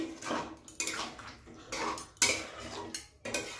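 A spoon scrapes and clinks against a pan while ghee is stirred into a jackfruit-prawn curry with the gas switched off, coming in short repeated bursts with brief pauses between them, close and clear.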